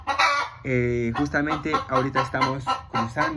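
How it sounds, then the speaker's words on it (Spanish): A criolla hen crossed with Brahma stock clucks noisily on a farm, her calls mixed in under someone speaking Spanish. "esta gallina que ha empezado a hacer bulla"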